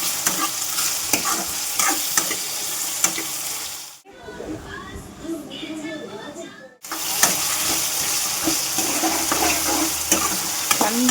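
Tomatoes fry and sizzle in a pan while being stirred, with loud continuous sizzling and scraping, interrupted by a brief quieter pause in the middle, and a voice occasionally speaking.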